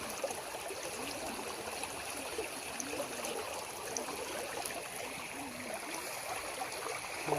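A full stream flows steadily where nets are set for fishing, a constant soft burbling and trickling of water heard at a moderate distance with no voices.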